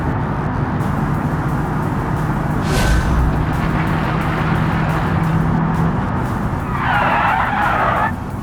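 Tires screech in a sustained skid as a car brakes hard in the BeamNG racing game, a loud close squeal over engine and road roar, with a sharper high squeal rising near the end.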